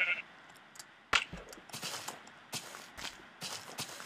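Sheep in the Minecraft video game bleat in short, fairly quiet calls scattered over a few seconds, with faint footstep-like clicks and game ambience between them.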